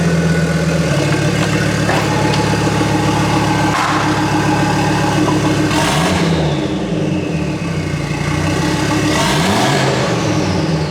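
An Audi engine runs on a dynamometer, holding a loud, steady mechanical drone close by, with two brief revs rising and falling partway through before settling back to a constant hum.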